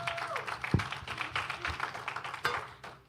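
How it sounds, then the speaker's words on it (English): An audience claps at an evening cervical cancer health awareness event, a loose patter of applause that rises briefly and then thins out. "Please give yourselves a round of applause."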